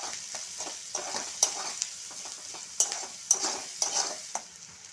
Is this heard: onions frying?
yes